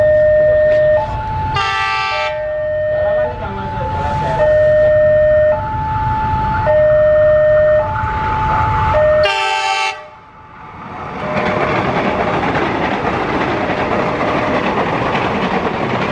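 An electric KRL commuter train passes close and loud at a level crossing near Klaten station, Indonesia, with a warning horn and repeated two-tone signal chimes, then a long rushing roar of carriages.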